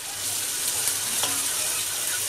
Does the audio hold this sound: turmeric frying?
yes